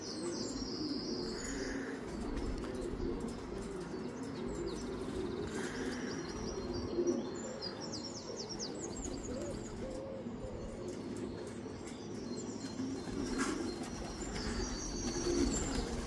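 Young racing pigeons flit around a garden, with soft cooing and occasional wing flaps faint against steady low outdoor rumble and scattered higher chirps from other birds.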